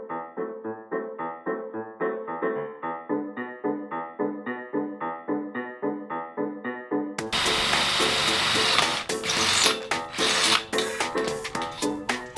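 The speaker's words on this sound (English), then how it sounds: "I need to run this drill alongside there, put some holes in there" A power drill makes holes alongside a tomato bed, first running in a steady rapid chattering rhythm, then switching abruptly to a louder, harsher grinding whir with sharp bursts.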